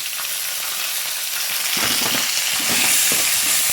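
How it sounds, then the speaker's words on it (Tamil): Onions sauté in a hot pan for egg pasta, giving a bright, steady sizzling hiss up close, with soft stirring scrapes in the second half and no voices. "வெங்காயம் கொஞ்சம் வதங்கட்டும்."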